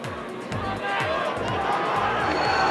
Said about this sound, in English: Huge crowd, magnificent atmosphere.